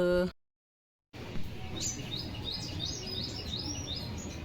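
After a brief gap, sparrows chirp repeatedly in quick, high tweets over soft outdoor background noise.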